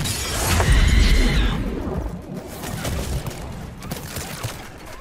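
Gunfire aimed at the player in Mass Effect 3: a loud crashing burst of shots up front, then scattered, sharper cracks and impacts trailing off.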